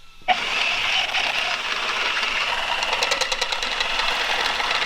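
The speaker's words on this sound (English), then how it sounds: "I'll drill this other one out, we'll grab the bigger bit, and we'll get through that" A stepper bit drilling through steel on an off-road bread van build, a steady high grinding whine that starts abruptly and continues loud and close without a break, with a faint chattering rattle toward the end.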